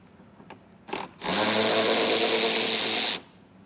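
A power driver spins out T20 Torx screws on the passenger side of a vehicle, with a couple of short clicks and taps followed by a steady two-second whir up close.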